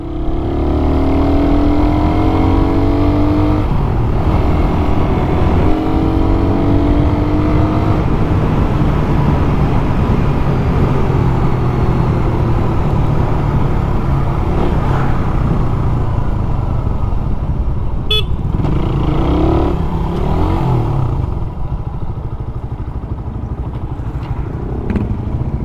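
A Suzuki Raider 150 motorcycle is ridden close up, its engine revving and droning steadily through gear changes and easing off near the end.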